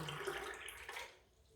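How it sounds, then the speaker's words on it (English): Water pours in a faint, steady splash from a glass into a blender for a second or so, then trails off, with no voices heard. "So I put in 1 glass of water, and I'm going to run it."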